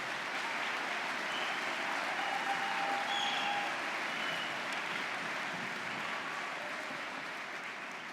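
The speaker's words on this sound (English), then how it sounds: "could I please ask for a round of applause for this sensational group we have here today" A large crowd fills a hall with dense, sustained applause at a fall university convocation at Brock University, a steady wash of clapping with no single claps standing out and no voices over it.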